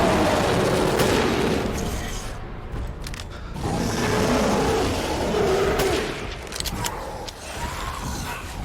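Gunfire in Resident Evil Village aimed at a creature that will not die, a dense, continuous barrage of shots with loud bursts across the whole stretch and no voice over it.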